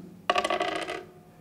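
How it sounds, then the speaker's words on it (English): Dice rolled onto a hard surface make a sudden burst of rapid rattling clicks for under a second, then die away in a quiet room. "Does any volunteers want to roll the dice?"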